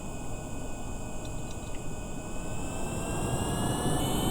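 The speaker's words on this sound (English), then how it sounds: "These engines do take a second to spool up" Jet engines spooling up on an aircraft in Kerbal Space Program, a steady loud roar with high whining tones that slowly rise in pitch as the thrust builds.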